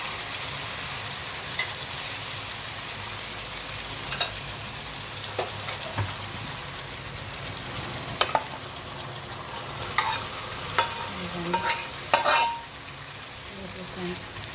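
Chicken pieces fry in a hot pan with a steady sizzle while a spoon stirs them, and occasional clinks and scrapes of utensil against pan stand out close over the constant crackle.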